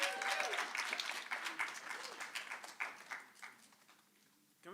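An audience claps after a live poetry performance, dense applause that starts strong and gradually thins and fades out over several seconds, with some voices mixed in.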